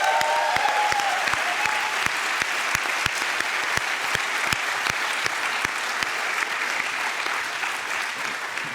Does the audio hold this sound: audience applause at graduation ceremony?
yes